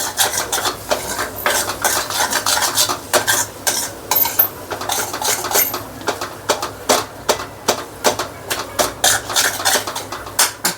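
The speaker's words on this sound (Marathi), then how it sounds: "आता सगळं छान हलवून घेऊयात." Goda masala and vegetables for Maharashtrian bhogichi bhaji are stirred in a pan, a spoon scraping repeatedly against the metal in a steady rhythm over a faint sizzle, close and alone.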